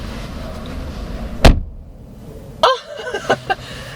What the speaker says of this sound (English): there is no click when you close the door. It's just a solid thud.